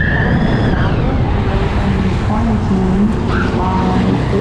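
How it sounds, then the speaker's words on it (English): Tires of a Tesla Model S Plaid spin in a dragstrip burnout box, a steady broadband roar and hiss that fills the whole stretch, with voices talking over it. "Let's see what it does here in the burnout box. All right, a little bit of action out of those tires."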